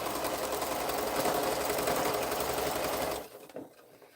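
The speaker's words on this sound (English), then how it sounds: "And we sew them down." A sewing machine stitches quilt pieces, its steady rapid motor whir running close and loud for about three seconds before stopping abruptly, followed by faint handling sounds.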